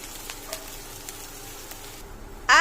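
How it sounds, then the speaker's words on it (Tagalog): Onion and garlic sauté in hot oil in a pan for a stir-fried chicken dish, giving a soft steady sizzle with faint stirring ticks, then a sudden louder burst of frying near the end. "maglagay ng mantika, sibuyas, bawang. Gisa-gisahin muna natin."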